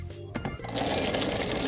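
Orbeez water beads poured into a toy doll's bath make a dense rattling, pattering rush that starts abruptly after a brief quiet moment and continues steadily, close and fairly loud.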